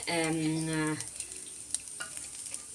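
Fennel seeds, black pepper and cloves dry roasting in a pan, a steady close sizzle and rustle as the spices are stirred, with a brief tonal hum at the start.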